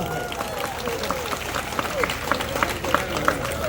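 At a Tamil music event honoring local artists, an audience applauds in a moderate, continuous wash of clapping while voices and stray tones carry faintly underneath.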